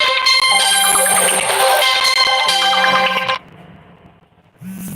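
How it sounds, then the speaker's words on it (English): A phone ringtone from spam calls plays loud and continuous as a repeating tonal melody, then stops abruptly partway through, leaving quiet background before a brief return. "These fucking spam calls keep calling my phone."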